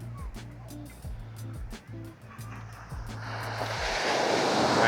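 Sea waves at high tide on a white-sand beach near Alibag, starting as a soft wash under low droning tones and wind, then swelling into a loud, close, broad rush of surf.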